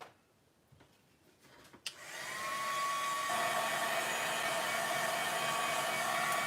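A handheld hair dryer blowing on a steampunk butterfly craft project switches on after a couple of soft clicks and then runs steadily with a constant, close whooshing hum.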